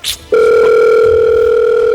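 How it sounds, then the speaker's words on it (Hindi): A mobile phone sounds a loud, steady electronic tone at a Bollywood preview launch event. It starts after a short muffled burst and then holds unbroken and close for the rest of the clip. "सर आपका फोन आ रहा है।"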